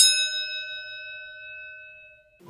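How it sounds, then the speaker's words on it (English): A single bell, rung to open a Pokémon card pack battle, gives one clear bright strike that rings out and decays over a couple of seconds, close and alone, before a brief rustle. "let's ring that bell and let's start today's pack battle"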